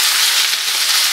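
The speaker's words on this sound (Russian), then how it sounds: "И перемешиваем и обжариваем все вместе." Boiled macaroni frying with minced meat in a pan, a loud, close, continuous sizzle with light crackling as the food is stirred.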